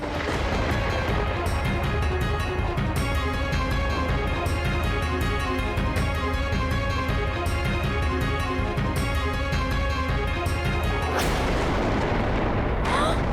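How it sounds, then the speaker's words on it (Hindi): Continuous loud rumbling booms and crackling blasts fill the air, dense and relentless like a violent volcanic eruption, ending with a sharp burst. "ये तो और विस्फोट हो गया"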